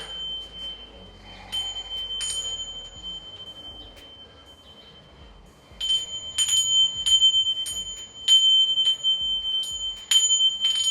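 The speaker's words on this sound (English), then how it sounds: "my bells that I'll walk through" Small bells ring in bright, sustained tones, first sparse, then struck in a quicker run of repeated chimes that linger and overlap.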